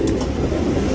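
A male tournament racing pigeon in Bangalore gives a low, close cooing that carries through the whole short moment, fairly loud and with no talk.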